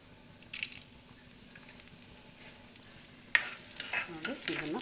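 Whole spices such as cinnamon, cloves and fennel seeds frying in a pan while being stirred, a soft sizzle that turns louder and busier with scraping stirs in the last second and a half.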